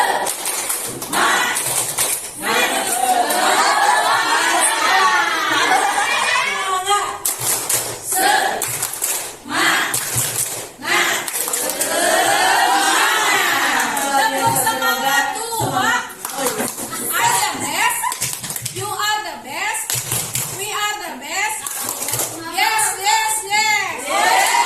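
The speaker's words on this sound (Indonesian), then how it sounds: "Tepuk semangat." An Indonesian group of adults in an indoor room performs a rhythmic 'tepuk semangat' clapping cheer, steady patterned hand claps mixed with chanting voices, loud and close throughout.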